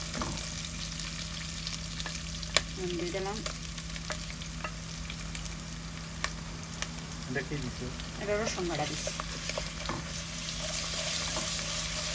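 Chicken sautéing in spices in a pan, a steady close sizzle with scraping stirs and occasional clinks, while someone talks intermittently over it and faint running water is heard.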